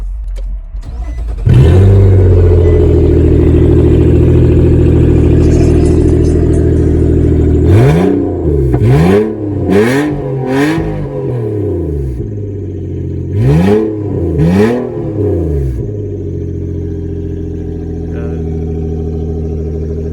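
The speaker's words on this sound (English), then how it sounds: "let's do a first start with the Motordyne Art Y Pipe, see how the car sounds" A Nissan Maxima (7th generation) with a new Motordyne Art Y-pipe exhaust fires up and idles with a deep rumble, then is revved hard several times in quick bursts, loud and close, before settling back to idle.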